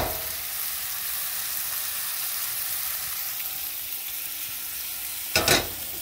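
Melted butter sizzles steadily in a pan over a low flame, a soft even hiss with a brief louder scrape or clatter near the end.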